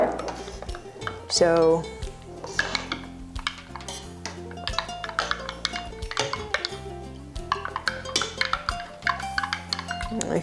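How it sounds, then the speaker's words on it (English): A utensil stirs cornstarch into fruit sauce in a pot, with repeated scraping and clinking against the metal over background music, and a voice briefly speaks. "we're just going to stir it around until the cornstarch is dissolved"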